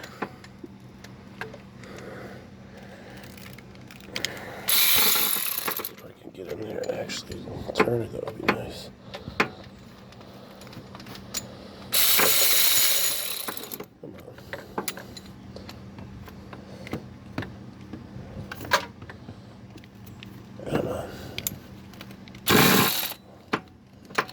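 Bursts of an electric ratchet whir and clicks sound on bolts of a 2006 Toyota RAV4 4x4 V6 engine, three loud spells between scattered metallic clinks and handling noise in a workshop.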